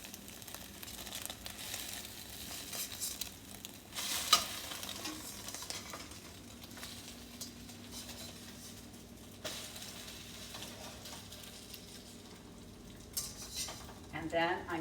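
Eggs frying in a pan for Asian shrimp cauliflower rice, a steady sizzle with occasional scraping and a clack near the midpoint as they are flipped, utensil knocks returning toward the end.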